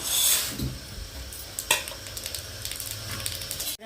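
Peanuts, chana dal and urad dal frying in oil, a close, steady crackling sizzle with a burst of spitting at the start and scattered clinks of a spoon stirring against the pan.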